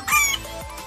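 A rooster gives a short, harsh crowing call, loud and close, lasting under a second with a rough, strained tone.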